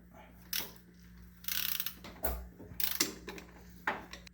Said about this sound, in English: I'm going to start by removing the 2 bolts at the bottom of my AC bypass pulley.